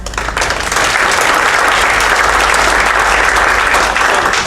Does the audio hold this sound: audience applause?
yes